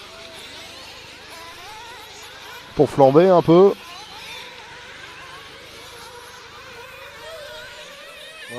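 A sports car sits just behind the track at a nitro 1/8 scale RC car final in Longvic, France, and blips its exhaust in a short, loud rev burst of about a second, with a commentator talking before and after.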